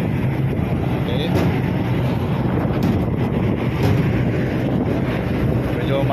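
Wind buffets the microphone over a continuous wash of choppy sea and boat noise while passengers board a vessel bound for Ormoc City, Leyte, a dense rumbling roar with faint voices beneath.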